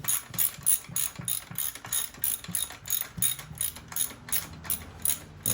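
A ratchet wrench tightens a motorcycle footpeg bolt with a run of close, crisp clicking strokes in an even rhythm, each stroke a quick burst of ratcheting clicks.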